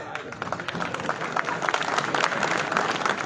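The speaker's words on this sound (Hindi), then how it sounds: "जोरदार तालियां होनी चाहिए दोस्तों।" A crowd at an Urdu poetry gathering applauds as a poet is invited onto the stage, a dense, steady patter of clapping that swells slightly over a few seconds.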